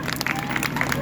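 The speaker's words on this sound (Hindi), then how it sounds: "ताली बजाएंगे फिर से" Devotees at a Bhagwat Katha gathering in Panipat, Haryana clap together in a quick, brief burst of scattered hand claps, close and moderate, with murmured voices underneath.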